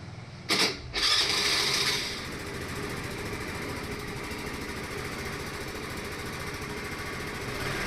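A Hero Pleasure scooter engine starts after repair with a brief rev, then settles into a steady, rapid idling putter close by, running alone for several seconds.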